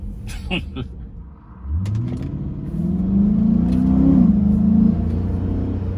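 A Chrysler 300S fitted with a Pedal Commander accelerates hard, its engine note rising in a smooth, loud drone from inside the car after a few clicks and knocks at the start.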